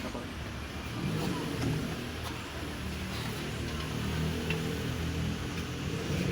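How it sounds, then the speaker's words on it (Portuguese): A Fiat Ducato 2.3 engine running steadily with a constant low rumble and faint scraping, as its timing belt pulley rubs against the belt's protective cover, sounding close and continuous throughout. "todo esse barulho era isso aqui, ó. A polia pegando na proteção da correia dentada"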